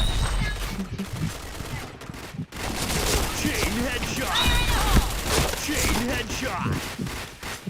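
Rapid game gunfire bursts from the shooter Point Blank, dense and continuous under an energetic voice calling out over the shots, with a game announcer voice popping through.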